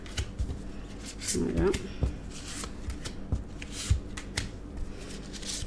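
Tarot cards are shuffled and laid out one by one on a table: soft riffling and sliding bursts, sharp flicks as cards land, with a voice speaking briefly in between.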